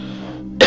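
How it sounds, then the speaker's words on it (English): A single sharp, close cough bursts out after a moment of low background hum, as if from irritation by foul, rotten air. "Immediately, I start to cough."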